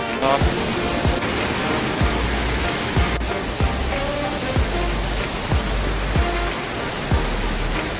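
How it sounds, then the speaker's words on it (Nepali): A waterfall roars beside Rikheshwor cave shrine to Mahadev in Makwanpur, a steady, loud wash of falling water filling the whole span, with dull low thumps recurring every second or so beneath it. "र छेउमा यहाँ छ झरना"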